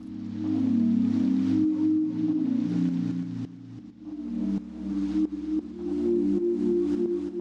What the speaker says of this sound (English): you should start to hear your pad drop out where that beat plays